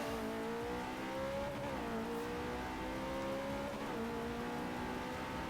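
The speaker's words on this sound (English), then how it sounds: "Accelerating away down the straight, and build a bit of speed again" A car in Forza 4 accelerates down a straight, its engine holding a steady loud tone that rises and dips slightly with gear and throttle changes, continuous and close, with faint tire noise beneath.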